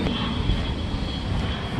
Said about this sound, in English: don't mind him, he's just a fighter jet.